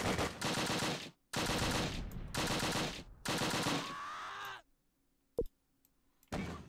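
Four long bursts of SMG gunfire in the World War II game Close Combat Last Stand Arnhem, near and loud with short pauses between, followed by quiet, a single sharp shot, and a final burst starting.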